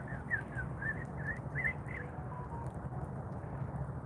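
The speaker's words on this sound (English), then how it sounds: "You need to stop that whistling." Someone whistles outdoors on a nature walk, a string of short, bright chirping notes in quick succession over soft outdoor background noise, fading out partway through.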